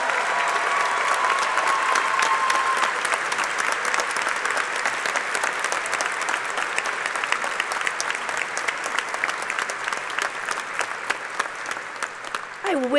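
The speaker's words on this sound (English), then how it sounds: "Can we just have one more round of applause for Mr. Mark Johnson?" A large audience at a College of Liberal Arts & Sciences commencement ceremony gives sustained applause, a dense, even roar of clapping throughout, with a brief voice surfacing at the very end.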